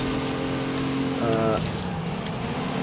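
A race car's engine in Forza Horizon 5, a steady mid-pitched drone with a brief rise in revs partway through, played low under constant game background noise.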